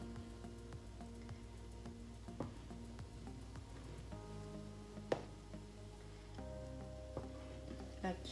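Milk with lemon juice added is stirred in a pot as it curdles into paneer, a soft steady bubbling and sizzling hiss with scattered clinks and scrapes of the spoon throughout, fairly quiet.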